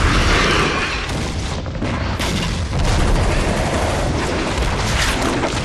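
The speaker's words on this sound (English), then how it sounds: "the turrets are shooting us!" Turrets in Gears of War 2 pound away with loud, dense gunfire and booming blasts, a continuous close barrage with no pauses and no voices over it.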